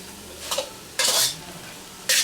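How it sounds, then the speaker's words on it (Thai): Stir-frying with plenty of black pepper in a pan: three bursts of scraping, clattering utensil strokes against the pan at intervals, over a low steady sizzle. "ผัดให้เข้ากัน แต่ไม่ต้องให้แห้งเหมือนขนมเทียนนะคะ"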